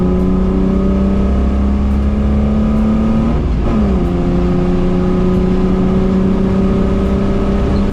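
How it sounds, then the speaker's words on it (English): A Barra-swapped EL Falcon drift car running hard around a race track, with a loud, constant engine drone from onboard and a brief shift or lift partway through before the revs settle and climb steadily again. "We started passing cars."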